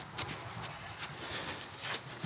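Horse hooves walking on the ground as a horse moves freely, giving soft, irregular clip-clop steps over steady outdoor background noise with no clear talk.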